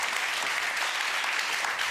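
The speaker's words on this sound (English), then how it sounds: "Can I have a warm applause for this panel?" Conference audience at Dutch Design Week 2022 gives a panel a warm round of applause, a dense, even burst of clapping from the room with no talk over it.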